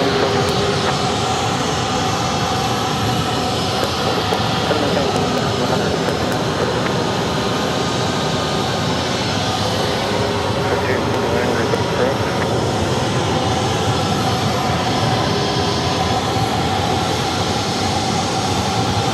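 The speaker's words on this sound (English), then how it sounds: "shortly arriving will be United Airlines Flight 1845, arriving from Denver. A Boeing 737, 12 years of age" A 12-year-old United Airlines Boeing 737 arriving at Phoenix Sky Harbor Airport after a flight from Denver, its engines a steady, broad roar that holds loud and unbroken throughout, with a voice talking over it.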